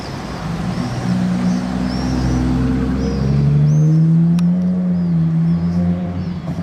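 A Ferrari Monza SP2 passes by in Monaco, its engine a steady, fairly loud drone that swells slightly mid-pass amid street ambience, with some faint high squeaks and a brief sharp click.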